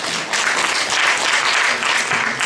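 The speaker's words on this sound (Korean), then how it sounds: "박수 한번 주세요." A church congregation at a workplace mission training session claps in a steady, fairly loud round of applause that lasts throughout.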